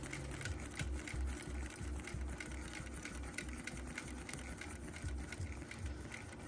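A longarm quilting machine stitches steadily, a fast rhythmic low thumping that runs through the whole stretch at moderate level, with no talk over it.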